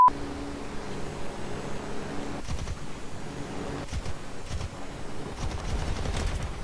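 Machine guns on the VB10C fighter plane in War Thunder fire in several loud sustained bursts that start and stop, heavy rattling volleys over a constant engine drone with no talk.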